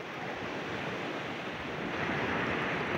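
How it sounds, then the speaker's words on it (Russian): Sea waves at Yalta, Crimea, in September make a steady, broad rushing wash that swells slightly toward the end. It sounds continuous and fairly close, with some wind mixed in and no voices. "Море"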